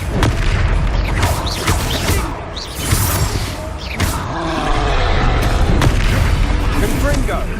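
Confringo explosion spells in Hogwarts Legacy burst in repeated booming blasts amid dense combat noise, with loud crackling impacts spread across the clip and a voice talking over the action.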